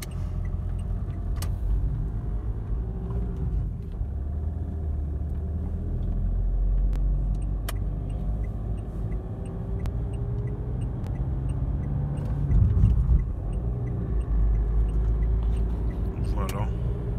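A car pulls away from a stop on a road, its engine giving a steady, close low rumble that swells briefly partway through.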